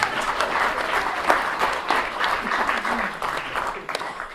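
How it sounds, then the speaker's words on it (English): Applause from wedding guests during a best man's speech, a dense steady patter of many hands filling the room, with faint voices mixed in beneath the clapping. "Give a round of applause, everyone."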